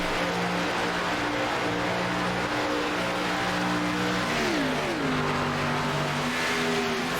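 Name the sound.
ARCA race car engine in iRacing video game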